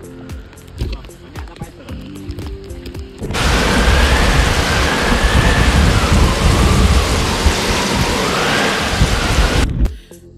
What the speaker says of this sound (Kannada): ಸಿಕ್ಕಾಪಟ್ಟೆ ಗಾಳಿ ಮಳೆ ನೀರು ಎಲ್ಲ ಇತ್ತು, ವಿಡಿಯೋ ಮಾಡೋಕ್ಕಾಗಿಲ್ಲ.